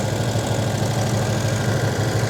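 A turbocharged V8 police car with custom exhaust, EFI and intercooler idling at about 1,500 RPM, a loud, steady, close engine drone with a constant low throb and no talking.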